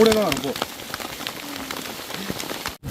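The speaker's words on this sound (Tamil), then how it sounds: "இங்கே பாருங்க, கடுமையான மழை வந்துருச்சு" Heavy rain pours steadily during a mountain trek through Parsons Valley toward Mukurthi Peak, a dense constant hiss of drops hitting surfaces close by, with a brief voice near the start.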